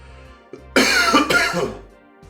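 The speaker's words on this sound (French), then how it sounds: "je tousse depuis ce matin" A single harsh, loud cough with a throaty rasp, close by, trailing off after about a second.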